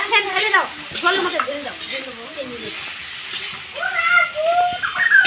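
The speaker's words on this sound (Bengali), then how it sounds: "এখন এই যে মশলা কষানো হচ্ছে পেঁয়াজ শুকনো লঙ্কা তেজপাতা মটরশুঁটি জিরা মশলা সব কিছু দিয়ে দিয়েছে" Onion, dried chilli, bay leaf, peas and cumin frying together with spices at a picnic produce a sizzle and stirring, heard beneath people talking nearby.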